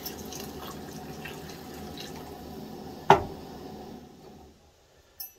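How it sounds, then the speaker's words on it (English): Cold water poured into a pot of boiling cowboy coffee on the stove: a steady low bubbling and trickle, then a sharp splash as the water goes in, fading to quiet. "And turn down the heat a little bit and put in my cold water."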